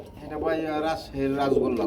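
Pigeons in pairs kept for sale, including a Rajshahi Rajgolla, coo softly and close by over two seconds, with voices present in the background.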